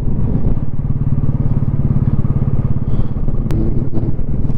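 A motorcycle engine drones loud and close while riding the Leh Manali Highway near the Gata Loops, a steady throbbing rumble with wind buffeting and a brief sharp click partway through.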